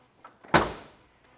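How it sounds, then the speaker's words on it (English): A single solid thunk of a 1966 Ford Mustang's light door swinging shut, close and sharp with a brief decay, preceded by a couple of faint handling sounds. "Door closes really nice."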